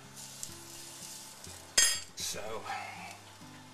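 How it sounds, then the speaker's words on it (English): Smoking-hot oil hits steamed flounder with ginger and green onions, a sudden loud sizzle that flares and then fades into a softer crackle, close, with a brief word spoken beforehand and a low hum underneath. "then after you've seared it with the hot oil"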